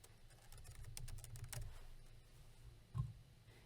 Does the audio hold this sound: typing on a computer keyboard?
yes